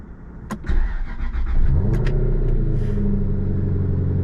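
A Jaguar XK R 4.2 AJ V8 engine cranks and catches, then settles into a deep, steady rumbling idle, close by and fairly loud.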